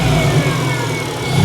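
A car engine runs at a steady idle, loud and close, with a low rumbling drone and a slightly uneven, misfiring pulse.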